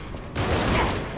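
Gunfire from an enemy's gun in the video game Lies of P, a sudden loud burst of shots that cuts in after a quieter moment and carries on as a dense, rattling volley.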